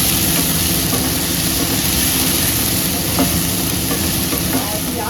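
Spice masala paste roasting in a pan for a malai paneer dish, with a dense, steady sizzle and repeated stirring scrapes that run through the whole stretch at close range. No one speaks.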